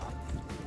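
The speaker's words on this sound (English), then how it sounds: "Right, let's fill it up with water." Water runs into the fresh water tank of a self-built VW Crafter campervan, a brief close burst of splashing and gurgling.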